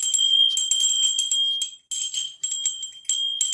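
A small puja bell rings repeatedly in bright, high metallic bursts during a Hindu worship ritual, with a few brief pauses between shakes.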